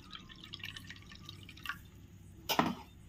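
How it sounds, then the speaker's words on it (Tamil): A cup of water goes into a mixer grinder jar already holding three cardamom pods: faint drips, then one short, close splash near the end. "இதில் வந்து ஒரு கப் தண்ணி சேர்க்கலாம்."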